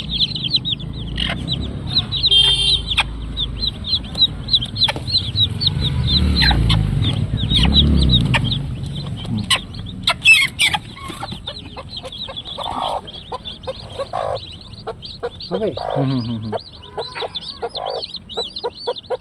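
Chickens cluck and peep close by in a busy, irregular chorus, with sharp high chirps from chicks scattered throughout and a low rumble underneath.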